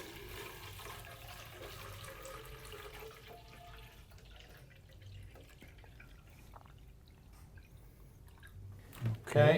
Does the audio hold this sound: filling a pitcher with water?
yes